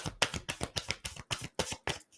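A tarot deck is shuffled by hand in about nine quick, crisp riffling bursts separated by short pauses, close and clear with no talking.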